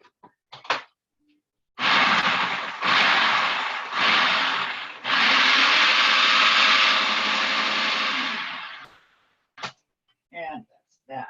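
A food processor whirs loudly through a limoncello cheesecake mixture in several pulses, first two short bursts and then a longer run of about three seconds, with brief clatters and thumps before and after.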